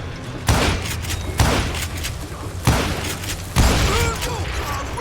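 Gunfire in the Wild West shooter Call of Juarez Gunslinger, four loud booming shots spaced about a second apart, each with a ringing echoing tail over a busy game background.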